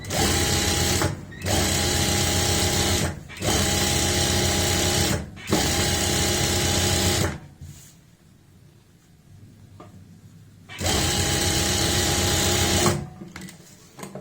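A sewing machine runs in three long, steady bursts while stitching along the top side of a palazzo pant waistband, each burst loud and even with short pauses between, then a quieter stretch before a final burst.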